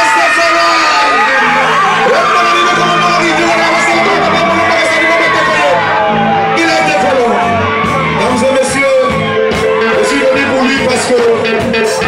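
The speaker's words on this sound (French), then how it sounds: "Applaudissez pour lui," A loud concert crowd at a DJ show cheers, whoops and shouts continuously, with a voice speaking over the din and a dense wall of crowd noise throughout.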